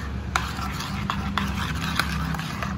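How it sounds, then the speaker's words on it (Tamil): Cake batter being mixed smooth in a bowl, a continuous close stirring and scraping with a few light taps of the utensil against the side. "ஸோ நல்லா கட்டி இல்லாமல் மிக்ஸ் பண்ணிக்கோங்க"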